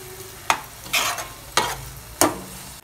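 Kerala-style roasted-coconut chicken curry masala bubbling in oil in a covered pan, with a steady low sizzle broken by four sharp stirring scrapes spaced about half a second apart, close and fairly loud.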